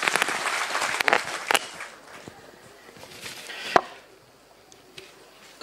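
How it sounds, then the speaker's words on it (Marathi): Applause from an audience welcoming a speaker at a Parivartan Mahashakti political rally, a dense burst of clapping that fades after a couple of seconds, followed by scattered claps and a loud sharp clap near the end. "त्यांचं या ठिकाणी आपण टाळ्या वाजवून स्वागत करावं"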